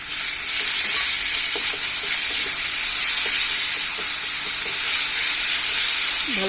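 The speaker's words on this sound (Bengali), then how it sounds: "ভালোভাবে মিশিয়ে নেওয়া লাগবে এটাকে" Coriander leaf pickle with tamarind pulp is stirred and mixed in a hot pan, producing a loud continuous sizzle with scraping stir strokes throughout.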